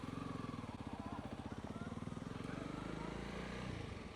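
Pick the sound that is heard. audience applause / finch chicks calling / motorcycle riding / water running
motorcycle riding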